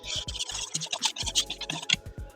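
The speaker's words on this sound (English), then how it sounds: "And we whisk." A whisk scraping quickly through dry glutinous rice flour, sugar, baking powder and salt in a bowl, producing a rapid run of close, scratchy strokes for a couple of seconds.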